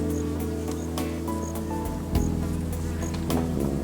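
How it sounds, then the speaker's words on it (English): Dense, steady buzzing of many honey bees bearding at a hive entrance close by, a continuous droning swarm with individual insects passing near. "The bees are bearding at the entrance."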